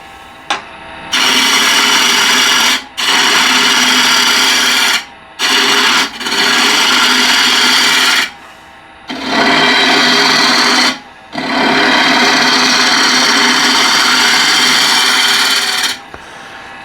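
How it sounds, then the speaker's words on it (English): A 16mm bowl gouge roughing out a wooden bowl on a lathe, loud sustained cutting rasp in long passes broken by short pauses between cuts. "I'm just going to rough this out with the ball gouge. I just grabbed the 16mm ball gouge."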